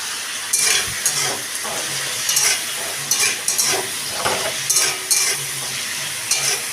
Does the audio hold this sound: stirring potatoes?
yes